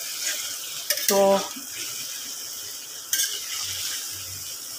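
Tomato paste tipped into a hot pan gives a brief clanging clatter of a utensil and spoon, then soft sizzling and a second scrape, with a short spoken word and quiet low background noise.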